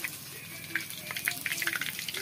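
Chicken liver pakode sizzle in hot oil over a village stove with an uneven flame, a steady crackling hiss dotted with sharp pops that grow busier toward the end.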